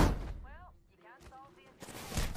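Booming Kraber sniper rifle shots from the video game Apex Legends burst loudly at the start and end, with voices talking in between.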